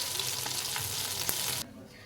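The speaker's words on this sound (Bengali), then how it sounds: "মাছগুলো এক পাশে ভাজা হয়ে গেছে, আমি আর এক পাশে উল্টে দিয়েছি, দিয়ে ভালো করে মাছগুলো ভেজে তুলে নেব" Fish sizzles steadily in hot oil in a wok-like kadai with soft crackles and a sharp clink as it is turned, then the frying sound drops off abruptly to a quieter hiss.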